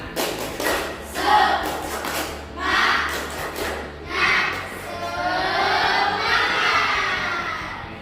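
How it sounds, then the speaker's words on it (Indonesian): A classroom of students does a rhythmic spirit clap, with bursts of patterned clapping and excited young voices shouting and chanting in uneven waves, the sound fairly loud and close throughout. "Coba tepuk semangat"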